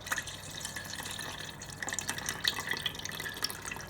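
Water being strained through a kitchen strainer to remove fat, a steady close trickle and patter of liquid with scattered drips, continuous and fairly quiet throughout.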